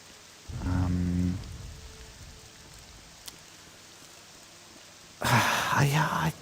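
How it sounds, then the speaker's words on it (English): Steady rain falls in England, a continuous soft hiss throughout, broken by a short low tonal burst early on and a louder, fuller burst near the end. "This is what the weather's been like here today. And I love the rain, right?"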